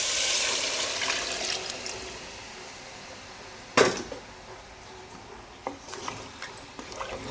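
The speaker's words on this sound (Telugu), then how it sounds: "ఇప్పుడు దీంట్లో నేను ఇంకా వాటర్ అనేది వేసేస్తాను." Water gushes into a pot of mutton curry, a rushing pour that fades, then a sharp knock and some softer splashes and trickles, close by with no talking.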